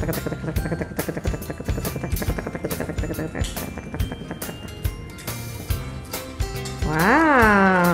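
A Rescue Bots toy helicopter plays an electronic sound effect with a rhythmic, choppy rotor pulse, followed by a rising and falling siren-like wail near the end, loud and close.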